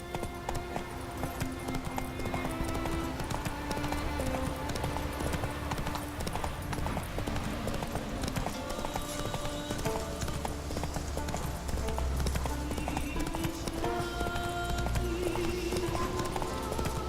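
Roach the horse gallops in The Witcher 3, a steady, rapid clip-clop of hooves that runs the whole time under game music.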